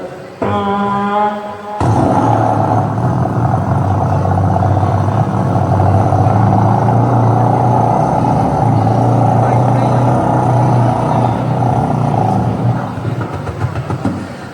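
A voice imitates a motorboat with a steady, loud droning rumble that runs continuously for over ten seconds after a brief tonal lead-in.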